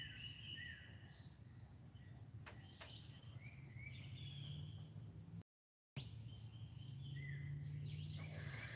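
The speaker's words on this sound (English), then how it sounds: "I love the birds" Songbirds call and chirp through a quiet morning in a rural hollow, bright twittering phrases near and far over a low steady hum, with a brief dropout midway.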